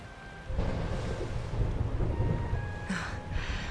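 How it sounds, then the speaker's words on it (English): A rumbling thunderstorm outside in Dragon Quest XI, with a steady wash of rain and low thunder rolling in loudly after a quiet start and holding continuously, with faint tonal music lines above. "Would you look at it thundering away out there?"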